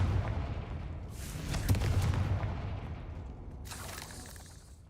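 A fiery Confringo spell blast from the Hogwarts Legacy video game, a booming burst rising around the middle and tailing off, with a second crackling flare near the end, moderately loud over a constant low game rumble.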